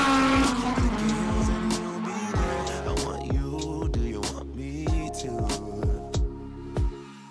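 A Honda Civic EG6 with a swapped K20 engine drives close by, its engine revving up again and again through a run of quick gear changes, each climb cut off before the next begins.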